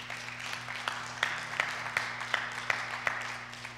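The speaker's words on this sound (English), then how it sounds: "let's give the Lord a hand clap offering" A church congregation at a Thanksgiving service gives a soft, distant hand clap offering, faint applause with rhythmic claps recurring roughly every third of a second over a low steady hum.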